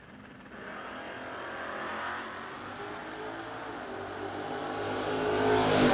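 Drag racing at the New Year Nationals, with cars launching down the strip and a pickup truck in one lane, a steady engine roar that swells louder toward the end and no voices.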